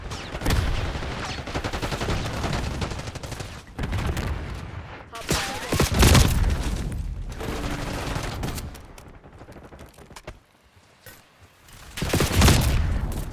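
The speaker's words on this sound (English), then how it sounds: "Percussion grenade out." Heavy gunfire crackles in long bursts in a video game firefight, broken by loud booms that fit a percussion grenade going off, with a brief lull before another burst near the end.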